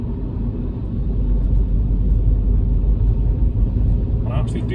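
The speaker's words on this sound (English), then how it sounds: "You can hear the turbo spooling, but it's not loud." Steady low engine rumble and road noise inside a Saab NG900 Turbo Coupe on the move, with the turbo spooling quietly beneath the drone, continuous and fairly loud with no talking.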